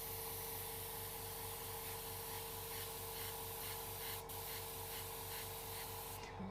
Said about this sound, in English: And this is how you airbrush.